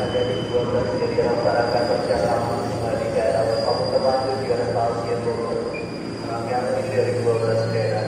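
A 12-car commuter train bound for Cikarang rolls into platform 8 at Manggarai Station, Jakarta, with continuous rumble and squealing wheels, a steady mechanical roar carrying on for several seconds.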